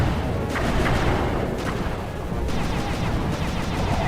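Turret gunfire from Sly 2: Band of Thieves pounds out in a loud, steady barrage of booming shots with sharper bursts every half second or so, with no talk over it.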